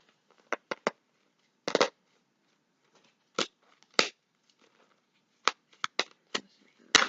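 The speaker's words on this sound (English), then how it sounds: "So we'll keep on pulling out more cards here." Tarot cards shuffled and pulled from the deck: scattered sharp riffles and snaps arrive in short bursts, some doubled or tripled, separated by quiet gaps, close and clear.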